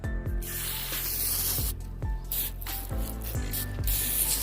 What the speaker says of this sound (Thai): เดี๋ยวเราใช้น้ำยาตัวนี้นะครับ ฉีดพ่นไปเลยครับ